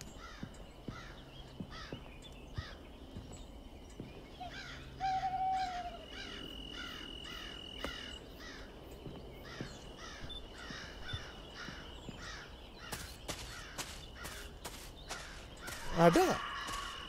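Crow caws come as a few short, mid-distance calls against a steady night ambience with crickets, alongside a brief tonal hoot-like call and a louder rustle near the end.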